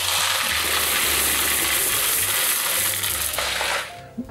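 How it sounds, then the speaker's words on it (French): Small ceramic baking beads pour steadily into a tart crust for blind baking, a dense, continuous rattling patter of many tiny pieces that fills most of the moment before tapering off near the end. "Donc moi j'ai des petites billes en céramique comme ceci, vous voyez, qui sont dédiées à cet effet."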